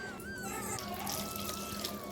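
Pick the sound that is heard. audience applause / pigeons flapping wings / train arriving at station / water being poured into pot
water being poured into pot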